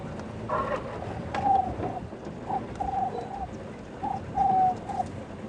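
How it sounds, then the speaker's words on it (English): Cape turtle dove calling outdoors during a sunset safari drive, with three or four clear rhythmic coo phrases at moderate distance over a faint background hum, and no talking. "That was a turtle dove, or a Cape turtle dove. It's a very common widespread bird, but it's such a beautiful call."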